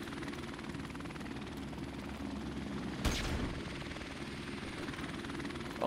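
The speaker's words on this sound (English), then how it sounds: "There's a helicopter outside there." Helicopter in a shooting video game hovers outside with a low, steady rotor drone, fairly faint and continuous, with a sharp burst of noise about halfway through.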